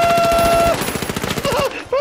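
Turret machine-gun fire in the video game The Finals, a fast loud stream of close, evenly spaced shots that stutters and thins toward the end, with a tonal whine over the top.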